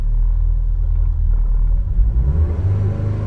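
Volkswagen Gol G4 engine idling with a deep, loud low rumble that rises slightly toward the end as revs begin to climb, heard close up with no talking.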